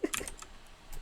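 Quiet, scattered keystrokes on a computer keyboard, a few crisp clicks grouped near the start and another near the end, typed one letter at a time with pauses between.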